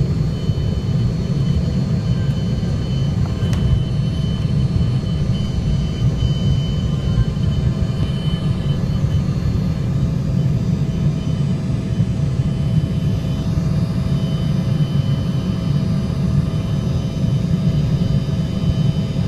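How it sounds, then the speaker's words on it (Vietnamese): An airliner takes off from the runway at Detroit airport, with a loud, steady, low engine roar and rumble holding for the whole stretch and no talking. "Rồi, máy bay bắt đầu rời phi đạo."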